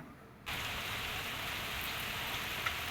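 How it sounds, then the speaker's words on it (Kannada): Heavy evening rain starts abruptly after a quiet moment and settles into a steady, even rush of drops on surfaces, moderately loud and without any voices. "ಇವಾಗ ಮಳೆ ಬರ್ತಾ ಇದೆ"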